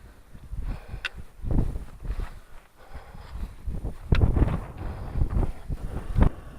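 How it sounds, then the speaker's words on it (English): Gusty wind buffets the microphone on a Dartmoor hike between Cox Tor and White Tor, rising and falling in uneven rumbling bursts with a few sharper knocks, fairly quiet overall. "It's a bit windy today"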